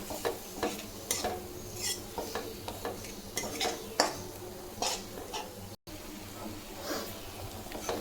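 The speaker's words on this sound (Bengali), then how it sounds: "মশলাটাকে কিছুক্ষণ ভাজবো" Spice paste (masala) fries in a pan for a jackfruit curry: a soft sizzle sits under repeated close scraping and clinking of a spatula stirring against the metal.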